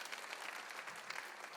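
A church congregation applauds during a sermon, a brief, faint burst of dense clapping from many hands filling the room.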